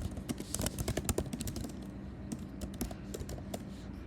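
Rapid, uneven keystrokes clatter on a computer keyboard as Java boilerplate code is typed, close and fairly quiet, in bursts with short pauses.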